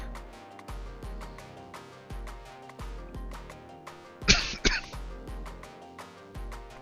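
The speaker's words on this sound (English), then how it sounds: "Always good with a cough in the middle of a video." A single sharp cough bursts out over quiet background music with a steady, plucked rhythm.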